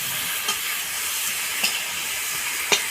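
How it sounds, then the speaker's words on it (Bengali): Water hits a hot pan of fried vegetables with okra, and a loud broad hiss of steam and sizzling fills the space, with a few brief crackling pops breaking through the steady rush. "এবার আমি জল দিয়ে দিচ্ছি।"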